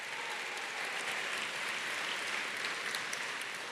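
An audience at an engineering graduate recognition ceremony applauds the engineering ambassadors team, producing a steady, even wash of distant, faint clapping with no individual claps standing out.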